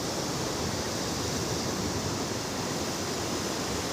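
Sea waves wash onto the beach at Mandarmani, a steady, broad hiss of surf rolling continuously at close range with no voices.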